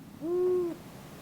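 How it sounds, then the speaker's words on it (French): A single owl hoots once in a forest, a clear, smooth, tonal call lasting about half a second over quiet background. "Tu peux aussi entendre le cri du hibou qui est dans les arbres."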